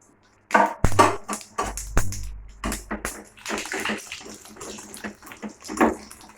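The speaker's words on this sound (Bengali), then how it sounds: "তেলের মধ্যে সর্ষে দিলে প্রচুর ফাটে" Mustard seeds crackle and pop in hot white oil with two dried red chillies, a burst of sharp, irregular snaps and spits close by, settling into scattered crackles.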